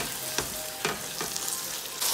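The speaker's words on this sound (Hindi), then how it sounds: "अब मैं इसमें टमाटर डालूंगी और टमाटर को साफ होने तक भूनूंगी।" Tomatoes frying in a large pot for chicken palak, a steady loud sizzle with a few sharp stirring scrapes, close by and with no talking.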